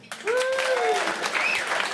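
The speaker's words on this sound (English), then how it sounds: "Round of applause if you did it on purpose." Brief burst of audience applause and whooping at a stand-up comedy set, rising sharply and sustained for under two seconds, with a few shouted cheers above the clapping.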